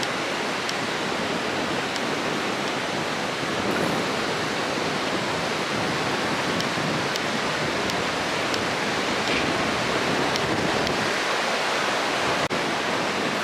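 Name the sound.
ocean waves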